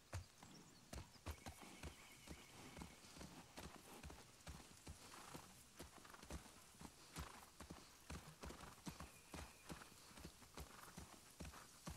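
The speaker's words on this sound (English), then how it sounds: "You can't get off the horse." Horse hooves clip-clop steadily in The Last of Us Part II, a brisk, regular rhythm of hoofbeats close up, running alone for the whole stretch with a faint whinny in the background.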